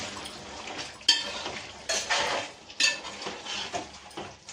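A spoon stirs chicken curry with chicken masala in a pot, making close metallic scrapes and clinks in about four uneven strokes over a soft steady background, with no talking.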